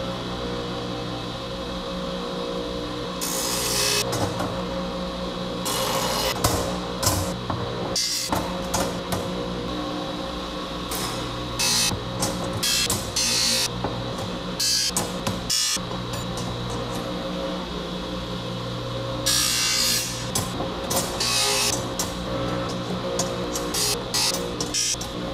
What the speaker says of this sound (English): I need to grind them smooth on the grinder